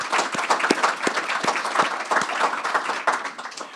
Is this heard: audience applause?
yes